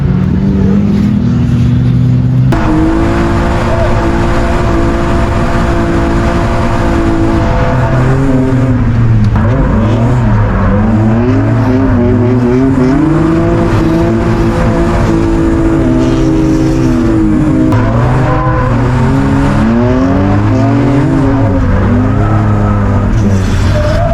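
A BMW E36 drift car engine revs and roars continuously at a drift event, pitch rising and falling in repeated surges, loud and close, being worked hard.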